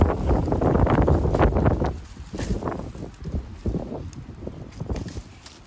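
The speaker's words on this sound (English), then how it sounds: "It's windy." Wind buffets a microphone outdoors during bush pruning, with rumbling gusts, strongest at first and then softer and uneven.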